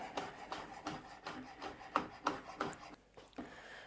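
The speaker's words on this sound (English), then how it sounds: "So yeah, these I'm just gonna cut across like that." A knife slices through vegetables on a cutting board in about eight quick, rhythmic strokes, each a soft close thud and scrape, with no voices.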